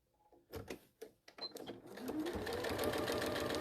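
A sewing machine stitches a quarter-inch seam on crazy patchwork, starting with a few short stitch bursts, then running in a steady, close whir.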